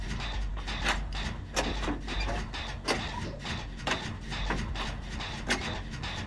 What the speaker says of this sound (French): Désolé pour ce bruit de chaise.